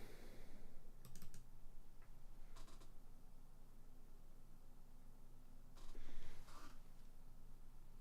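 Faint, scattered bursts of typing on a computer keyboard, short clusters of clicks separated by pauses, heard quietly over a steady low room hum.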